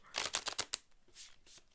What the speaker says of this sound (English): These are some good shuffles.